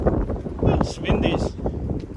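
Strong wind blows outside the front of a house on a chilly day, making a steady low buffeting rumble against the microphone, with a voice heard briefly over it.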